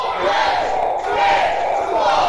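A wrestling arena crowd at a live event roars and chants loudly and continuously, a big echoing wall of voices swelling and dipping.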